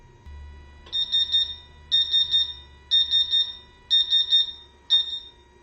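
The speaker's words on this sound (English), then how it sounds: "we should get an alarm that will sound to alert us that the water is not" An S&A CW5200 water chiller's low-flow alarm beeps in five evenly spaced bursts of rapid triple tones over a low hum, clear and fairly loud.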